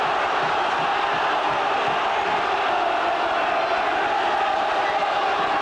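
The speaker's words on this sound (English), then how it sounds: "The crowd getting behind them" A rugby league stadium crowd roars steadily during a cup match between St Helens and Hull in 1990, as a dense, continuous wash of cheering from a large distant crowd with no break.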